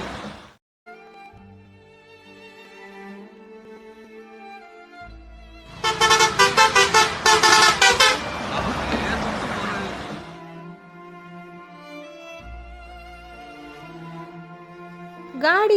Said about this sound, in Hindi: वो दोनों गाड़ी में बैठ निकल जाते हैं